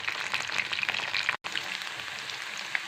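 Mushroom chilli frying in a pan, Tirunelveli style, gives a steady bright sizzle with crackling pops throughout, briefly cut off once near the middle before resuming at the same level.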